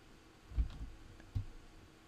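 Two crisp mouse clicks at a computer while connecting to a server in an old Minecraft version, the first a quick double tap and the second a single sharper click, close and quiet in a near-silent room.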